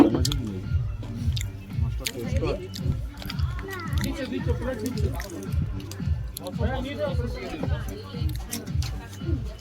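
People share rice and fried fish from one plate at a birthday party, making soft, wet, squishy mixing and chewing sounds beneath steady conversation.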